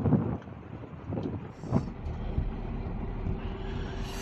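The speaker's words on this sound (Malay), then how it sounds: "Angin kuat sangat." Strong, cold wind buffets the microphone on a foggy morning in West Sumatra, Indonesia, a steady broadband roar with gusty bursts and low rumbling thumps throughout, no talking over it.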